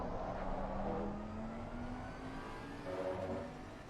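A race car in Assetto Corsa Competizione drives laps on a track, its engine droning steadily with a rising whine as it accelerates, continuous and fairly even throughout.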